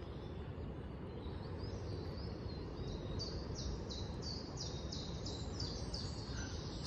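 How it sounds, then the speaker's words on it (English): A chiffchaff sings a repeated series of high, evenly spaced notes on a quiet morning along St Lawrence Undercliff Drive on the Isle of Wight, set over a constant low rumble of background noise. "It's a chiff chaff singing away."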